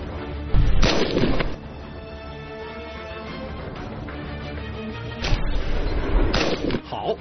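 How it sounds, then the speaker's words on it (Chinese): Rifle shots ring out at a special-forces shooting competition: a loud crack early on, then a steadier low rumble, followed by two more sharp reports near the end. "七号选手 站位， 准备射击。"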